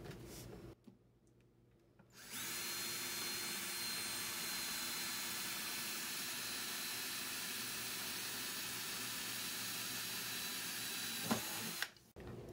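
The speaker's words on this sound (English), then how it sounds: "this is a Dremel tool. We're gonna actually use it for a good amount of this." A Dremel rotary tool smoothing cut edges of PVC, a loud steady high-pitched whirring grind that starts after a short pause and runs without a break before cutting off near the end.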